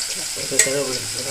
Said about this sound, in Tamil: இப்போ பூண்டு வெங்காயத்தை நம்ம வந்து ஒன்று ஆட் பண்ணிட்டோம் இப்போ நல்லா வதக்கிடலாம்